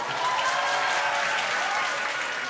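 Families of hostages applaud together while watching a live broadcast of the hostages' return to Israel, a steady, dense burst of clapping that fills the whole stretch without pause.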